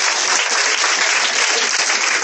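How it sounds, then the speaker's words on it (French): A church congregation bursts into loud, dense applause with clapping that fills the space throughout, hands sustained and even with no voices standing out. "On acclame le Seigneur."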